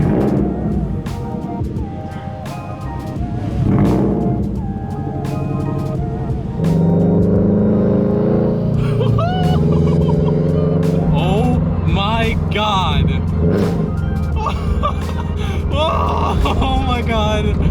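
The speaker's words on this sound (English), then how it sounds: "this is the loudest car I will ever own" Subaru BRZ fitted with a JDL UEL header, front pipe and Tomei 80R exhaust, revving loud and raspy up close, with several rising and falling rev sweeps as voices talk over it.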